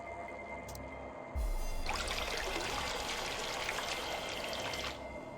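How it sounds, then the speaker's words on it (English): A faucet pours a steady stream of water in the puzzle game Virtue's Last Reward, starting abruptly after a click, running for about three seconds and then cutting off, over a low ambient hum. "A faucet. It dispenses water."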